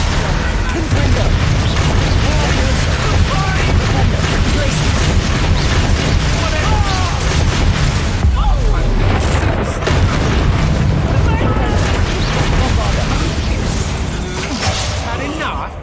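Repeated Confringo blast spell explosions from Hogwarts Legacy, deep booming bursts layered over dense combat noise and music, loud and continuous throughout with a brief lull near the middle, with spoken spell incantations mixed in.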